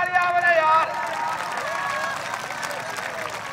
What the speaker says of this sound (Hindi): अच्छू बकरे दे नाल ताली मारिए